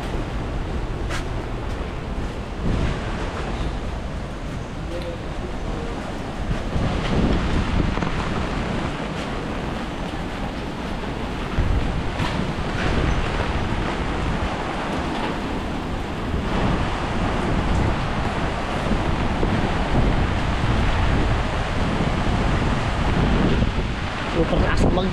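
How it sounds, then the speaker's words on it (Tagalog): Super typhoon winds roar across a coastal area where boats and huts are being damaged, with surf crashing beneath a loud, steady wind that rises in gusts, sustained and close throughout. "Super lakas ang magdingok ng hangin."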